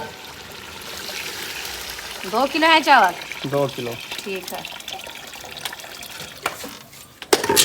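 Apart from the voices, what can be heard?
water poured into pot of browned chicken for biryani rice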